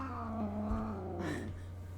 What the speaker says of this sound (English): A kitten touched a cat, and he's losing his